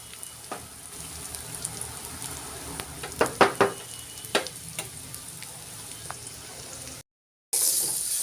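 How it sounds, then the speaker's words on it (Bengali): Spice paste with chili powder sizzling in plenty of oil as it is stirred, a steady frying hiss broken by sharper scraping strokes of the spoon, close up, with a short silent gap near the end. "এবার আমি এই যে পেস্টটা নাড়া দিয়ে আপনাদের দেখাচ্ছি"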